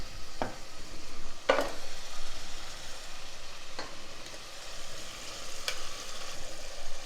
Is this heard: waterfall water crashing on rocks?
no